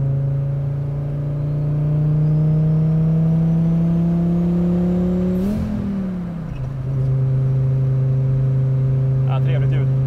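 A car engine hums steadily at a constant idle, dips briefly as if the throttle shifts, then settles back to a smooth, loud, close drone.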